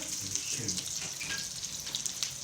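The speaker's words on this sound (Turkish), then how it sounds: "annem de Köftelerinizi kızartıyor" Soft, steady sizzling and crackling of meatballs frying in a pan, faint and continuous, with light spattering pops.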